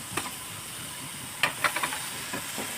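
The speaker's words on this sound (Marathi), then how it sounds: "आता यामध्ये टमाटर भाजून घ्यायचे" Tomatoes and onions roasting in a pan: a soft, steady sizzle with a few scattered clicks and scrapes from stirring, quiet and close, no voices.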